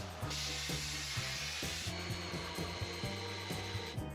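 A sailboat rudder being worked loose during a rebuild grinds and scrapes in repeated rough rubbing strokes, a close, dry wooden rasp with knocks between pulls, heard alone.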